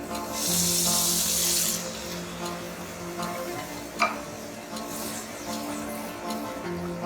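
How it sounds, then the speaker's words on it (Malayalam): Half a cup of water poured into bhindi masala simmering in a kadai, a brief bright splashing pour near the start, then a low bubbling simmer with a few light clinks and no talking. "ഇനി നമുക്ക് ഇതിലേക്ക് 1/2 കപ്പ് വെള്ളം ചേർക്കാം."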